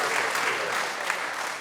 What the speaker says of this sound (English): I think we need an applause